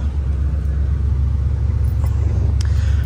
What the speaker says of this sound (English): And if I start the car, it's going to show that we've got no oil pressure